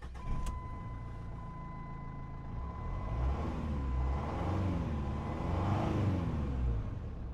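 A Jeep with an intermittent fault restarts with a brief starter burst, then its engine settles into a low idle rumble that swells into gentle rev waves, faint and close, alongside a steady warning-chime tone.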